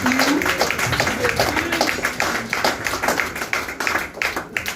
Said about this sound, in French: Un gros applaudissement pour les Seigneur de la vie.